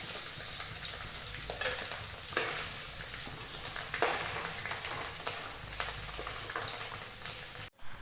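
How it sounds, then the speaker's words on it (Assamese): Food frying in hot oil, a continuous close sizzle with bursts of crackle and occasional stirring scrapes, cutting off abruptly near the end. "এতিয়া মই এইখিনি অলপ ফ্ৰাই কৰি ল'ম।"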